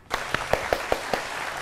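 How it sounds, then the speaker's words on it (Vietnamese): Applause at a matchmaking show before a contestant sings a song; a steady bed of clapping with a handful of sharp, evenly spaced louder claps close by, roughly five per second. "Rồi, vỗ tay."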